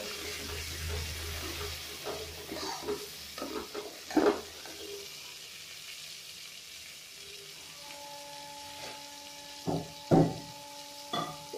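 Ground coriander and turmeric powder are stirred into sizzling masala for matar paneer. A spoon scrapes and clinks in the pan several times over a soft, steady frying hiss, with a few sharp louder knocks.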